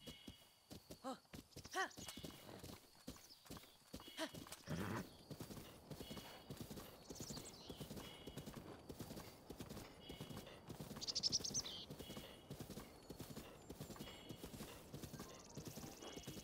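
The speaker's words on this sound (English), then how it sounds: "Horse friends." Horses in the Zelda: Breath of the Wild video game give off steady rapid clip-clop hoofbeats across the whole stretch, with occasional whinnies and neighs over the top and faint talk in the background.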